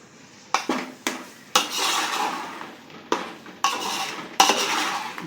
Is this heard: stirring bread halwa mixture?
yes